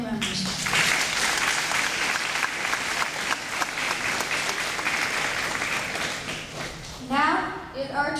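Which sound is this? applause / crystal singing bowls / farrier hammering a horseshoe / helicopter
applause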